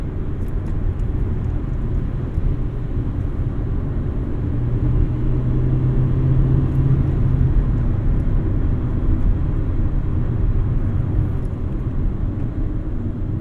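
A 2000 Honda Civic Si accelerating at full throttle: a low, steady engine drone and road rumble holding throughout from inside the car, with a rising tone briefly emerging midway.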